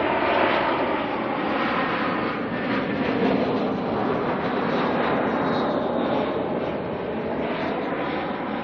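Jetstar airliner arriving at Auckland Airport, a loud, continuous jet engine roar that holds steady throughout with a slight rising whine, heard from nearby outdoors.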